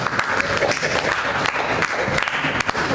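An audience at a district commissioner's handover of T-shirt uniforms applauds in a dense, uneven burst of clapping from a crowd nearby, steady throughout with a voice faintly mixed in.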